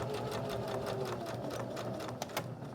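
Sewing machine stitching a fabric bunny ice pack and back stitching, running steadily and close for the whole stretch with a fast even whir and a couple of sharper clicks near the end.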